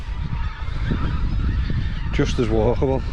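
Geese honking in an open field beside a footpath: outdoor rumble and a voice speaking first, then a burst of loud, nasal honks from nearby birds in quick succession near the end.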